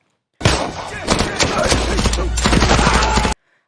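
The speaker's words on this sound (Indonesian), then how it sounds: "langsung suara tembakan beruntun memecah keheningan" A loud, rapid burst of gunfire, shots overlapping in a dense rattling volley for about three seconds, then abrupt silence.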